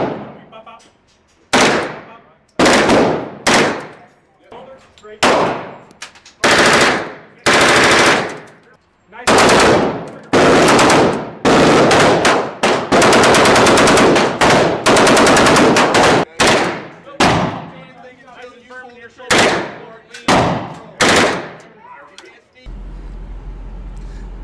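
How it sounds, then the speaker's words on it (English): Bursts of automatic gunfire at a shooting range, loud and close, firing in a run of sharp volleys separated by short pauses, with one long sustained burst in the middle; people talk briefly near the end. "So we just shot some guns."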